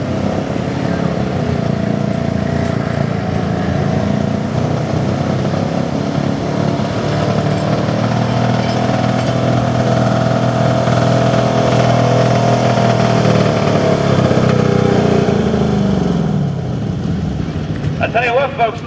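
A gas 4x4 pulling truck's motor breaks up a little as it pulls at the Beast of the event, a loud, sustained roar that holds steady before dropping off near the end.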